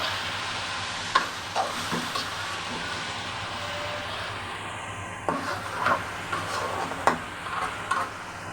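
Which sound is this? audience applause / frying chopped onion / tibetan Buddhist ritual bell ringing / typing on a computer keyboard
frying chopped onion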